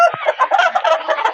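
Chickens cluck close by on a farm, a quick run of choppy, overlapping clucks that sounds busy and lively.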